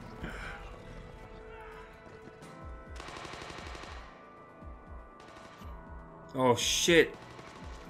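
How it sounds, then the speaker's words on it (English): Gunfire in a Walking Dead episode (season 8, episode 2, 'The Damned'): a burst of rapid shots over a soundtrack and scattered sounds, peaking loud near the end, with a person speaking briefly. "That was some bad shooting."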